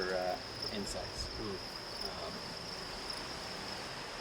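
Crickets at an indoor cricket farm chirp in a dense, continuous high-pitched chorus. A short burst of other noise comes at the start, and the steady trill then carries on alone at a moderate level.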